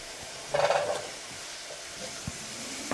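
Garlic sizzles in a hot pan, a brief louder burst of frying hiss flaring near the start, then a steady low crackle with a soft knock or two.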